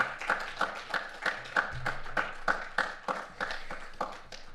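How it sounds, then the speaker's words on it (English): Scattered applause from a small audience thanking a speaker at an online IoT event, heard as sparse, uneven claps with a quiet, thin character and no talk over them. "let's also thank Philippe with a warm applause"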